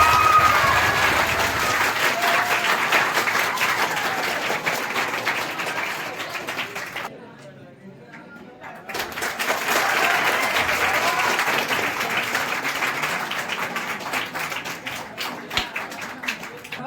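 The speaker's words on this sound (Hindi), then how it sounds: "ताली बजाओ जल्दी" Audience applause at a ceremony honouring a class 10 board-exam topper, a dense, loud clapping crowd that drops away briefly midway, then surges back and carries on steadily to the end.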